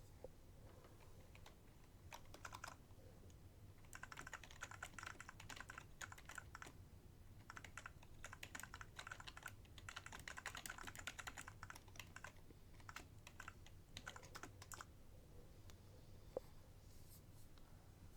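Steady typing on a computer keyboard, rapid clicking keystrokes in bursts with short pauses, fairly quiet and close, no voices.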